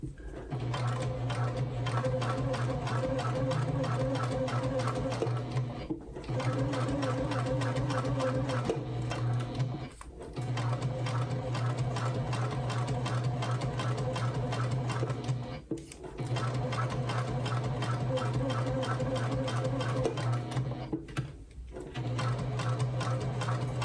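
A sewing machine stitches layered fabric along the curved edge of a pouch. Its motor hums in fast, continuous runs of rapid mechanical ticking, close and steady, broken by several short pauses between runs.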